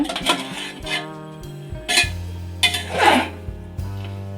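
Cooked jeera rice being mixed in a cooking pot: a few sharp metallic scrapes and clinks of a spoon against the pot, spaced irregularly over low humming tones and a brief throat-like sound.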